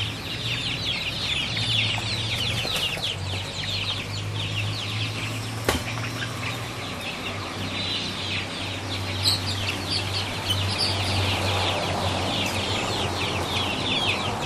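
Poultry in a flock cluck and chatter continuously, fairly close, with a steady low hum under the birds and no talking.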